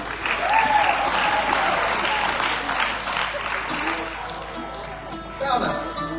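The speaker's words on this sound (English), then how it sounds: "Clap your hands if you want." Crowd at the 60th anniversary Tom Quilty event clapping along to a newly presented song, steady rhythmic hand claps filling the room and fading slightly toward the end.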